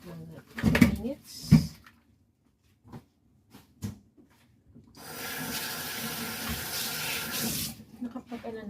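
Running tap water pours steadily over pork bones in a kitchen sink for several seconds, following a few short knocks and handling sounds, with a voice speaking briefly before the water starts.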